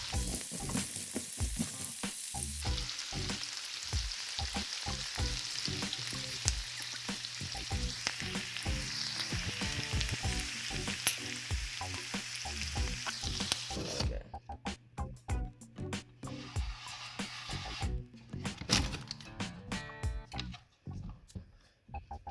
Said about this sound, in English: I added a little bit of leftover mushrooms to put in the soup.